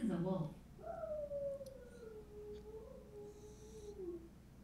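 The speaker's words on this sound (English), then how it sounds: "This is a wolf." A wolf howl played back through a Google smart speaker: one long, wavering tone that slowly falls and then rises, heard after a brief burst of voice at the start, with a faint room hiss underneath.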